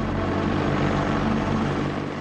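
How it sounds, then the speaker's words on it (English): An Apache combat helicopter drones loudly and steadily, its rotor and engine making a dense, pulsing hum that holds constant throughout with no speech. "The Apache is widely recognized as one of the meanest combat helicopters in the world."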